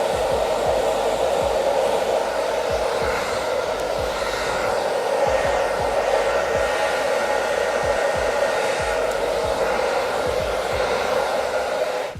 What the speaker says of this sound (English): I'm just gonna hit my hair a little bit with the hairdryer.